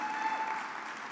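A church congregation claps together in worship, a steady wash of applause that stays even and moderately loud through the moment.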